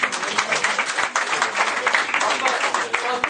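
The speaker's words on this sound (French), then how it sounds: "On peut applaudir monsieur." Dense, loud applause from a crowd at a wine presentation during a universal exhibition, steady and continuous with no clear gaps, voices mixed faintly under the clapping.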